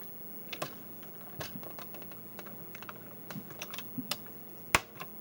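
Key caps being pressed onto a Commodore 64 keyboard during repair, quiet sharp clicks and taps at irregular intervals, close up with one louder snap near the end.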